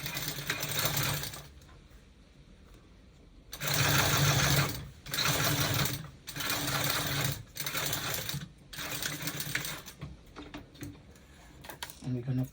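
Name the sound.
sewing machine understitching a bodice seam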